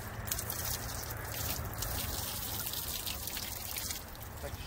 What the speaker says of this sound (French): J'arrose jusqu'à temps que l'eau sorte claire